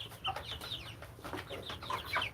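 Chickens on a small-scale poultry farm cluck and call repeatedly nearby, a busy overlapping flock chatter with no voices over it.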